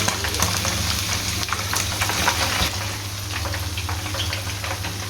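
Chicken chargha deep-fries in hot oil, a loud, steady sizzle and crackle that carries on without a break. A low hum runs underneath.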